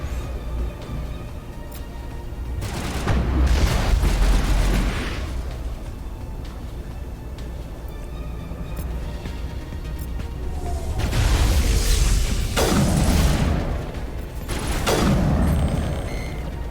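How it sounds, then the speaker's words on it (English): Combat in Mass Effect Legendary Edition, with loud booming grenade explosions and rumbling bursts rising twice, interspersed with clattering gunfire and quieter battle noise between. "A little too far for the frisbee grenade."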